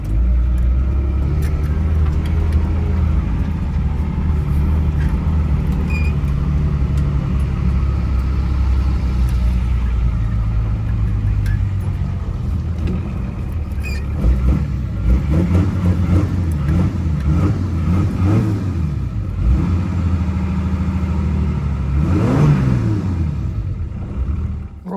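A 1981 Datsun Patrol with an SD33 diesel engine and four-speed gearbox drives along, its steady low rumble rising and falling as it revs and shifts, close and loud throughout.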